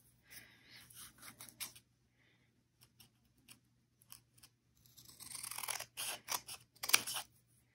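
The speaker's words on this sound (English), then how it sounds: "So we're going to cut this on the diagonal as well." Scissors cut paper on the diagonal to shape a Valentine's paper rose: a few quiet snips, a pause with scattered small clicks, then a closer, louder run of crisp rapid cuts and paper rustle, with no voices.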